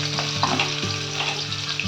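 Chopped onions sizzle in melted butter in a pan, a steady close frying crackle with soft stirring scrapes throughout.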